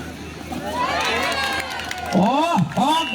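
Spectators at a women's kabaddi league match in the village ground cheer and clap for a raider's jump, a lively crowd roar with excited shouts and whistling voices rising near the end.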